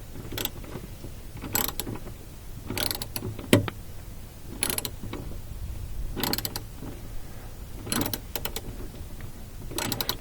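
A socket ratchet with a 10mm deep socket clicks in short bursts while adjusting the emergency brake on a Toyota Prius, fairly close and clear, with quiet pauses between the turns and no talk.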